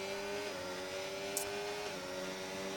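Race cars in a racing video game: a continuous engine whine whose pitch holds and then shifts as a car accelerates and passes, steady and fairly quiet, with one brief sharp tick.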